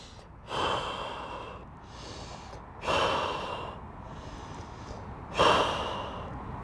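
Three slow, deep breaths through the nose during a yoga forward bend in an outdoor Ashtanga session by the Golden Gate Bridge in San Francisco, each a close, airy inhale swelling then easing into a long exhale.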